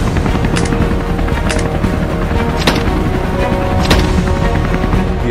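Guns fired at wild boars from a helicopter over Georgia farmland: loud steady rotor and engine roar with several sharp shots cracking through at irregular intervals, close and with no voices.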